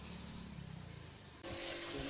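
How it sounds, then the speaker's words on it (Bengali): A Bajaj V15 motorcycle is being washed with a water spray: a steady broadband hiss that runs throughout, becoming louder and brighter for the last stretch as the spray comes closer or hits the bike more directly. "বাইকটাকে ওয়াশ করা হইতেছে ভালো করে"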